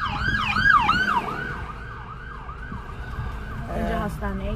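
An ambulance siren wails through traffic in Turkey, its rising and falling pitch loud at first and then fading as it passes, while the rumble of road traffic continues underneath.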